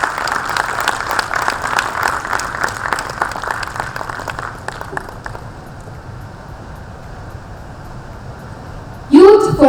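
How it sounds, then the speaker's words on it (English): An audience applauds the launch of a corporate volunteering conclave, a dense round of clapping for about five seconds that dies away into room noise before a voice begins speaking. "Can we have a round of applause"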